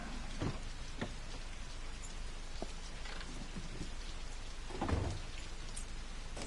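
Rain and thunder in the video game Heavy Rain outside a dingy old motel, a steady dense patter of rainfall with low rumbles of thunder rolling through, loudest near the end.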